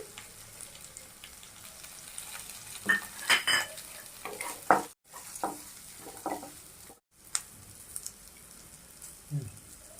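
A spoon stirs egg uggani with curry leaves in a pan, giving soft intermittent scrapes and clinks over a quiet sizzle, with a few louder utensil knocks, up close and without talk.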